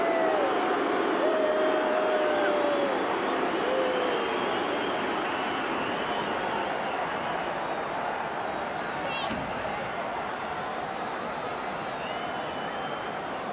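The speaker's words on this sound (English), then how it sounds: "The crowd more than upset with the decision." Large rugby league crowd at the 1991 Norths vs Penrith major semi-final, a loud sustained roar of disapproval that slowly eases, with a commentator talking over it and a brief whistle partway through.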